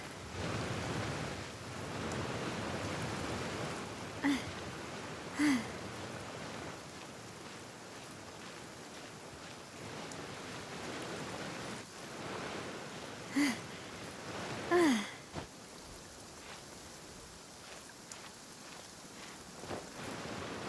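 Soft steady rain hisses across the game world of Genshin Impact, faint and even, broken by a few brief brighter chimes or clicks scattered through the stretch.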